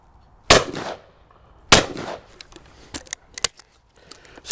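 Shotgun shots fired at clay targets during a test of a value-priced gun: two loud, sharp reports about a second apart, followed by several quieter, closely spaced clicks and pops.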